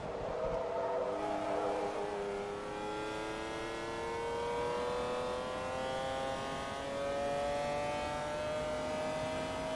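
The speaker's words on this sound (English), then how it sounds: "At least I got to enjoy the engine go from nothing to full revs once again." A McLaren F1 race car engine in the video game Forza Motorsport 2 revs steadily upward from low to high pitch, a loud continuous whine with rising harmonics that holds near full revs.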